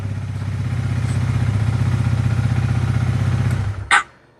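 A Honda Rebel 300 e-clutch motorcycle idles steadily up close with a low, throbbing engine note, then cuts off near the end with a brief thump and clatter as the bike is switched off.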